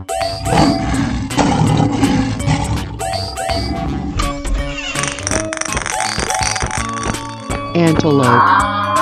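Cartoon lion in a children's wild-animal cartoon roaring loudly through busy music and sound effects, with a growling roar rising near the end.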